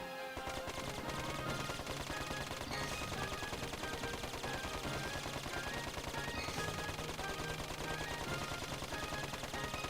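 Rapid gunfire in the Dark Cloud 2 video game, a steady stream of sharp repeated shots over continuous game music, loud and unbroken throughout.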